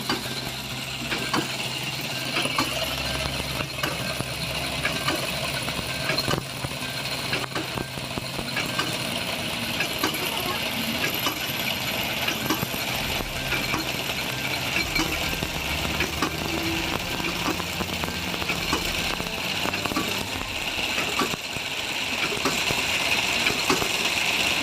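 Homemade air-powered engine running continuously in Agra, India, a steady mechanical whir with ratcheting, gear-like clatter and hiss, fairly faint and unbroken throughout, without speech.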